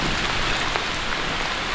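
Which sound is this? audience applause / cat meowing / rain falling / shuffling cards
rain falling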